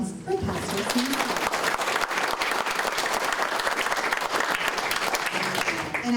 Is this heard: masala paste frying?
no